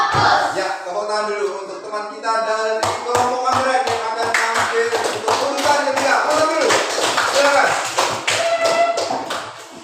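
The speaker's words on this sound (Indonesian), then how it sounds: "Ya, tepuk tangan dulu untuk teman kita dari kelompok anggrek yang akan tampil untuk urutan ketiga." A class gives applause for a student group about to present, a burst of quick, fairly close hand claps from several people following a brief spoken lead-in, building into a dense patter that fades toward the end.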